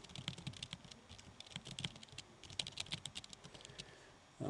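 Fast, close typing on a computer keyboard while entering an ID into a database application: a dense run of light key clicks in quick bursts with short pauses, no voices.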